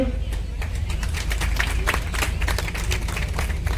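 Crowd at a farmers' union protest rally claps steadily throughout, a dense wash of applause with shouts rising over it, loud and continuous.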